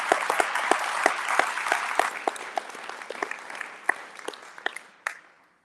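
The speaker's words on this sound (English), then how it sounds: "So if you could all give a big hand of applause for Linda Pennington." Audience applause for an award recipient at a 2022 District 9 State of the District ceremony: dense, steady clapping from a crowd in a room, sustained for several seconds before tapering off quickly at the end.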